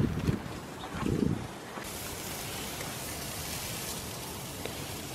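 Strong, cold early-spring wind blows outdoors near fruit trees, a steady broadband roar buffeting the microphone, with a couple of louder gusts in the first seconds before it settles into a constant rush.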